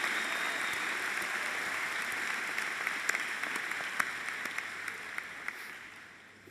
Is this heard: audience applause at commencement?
yes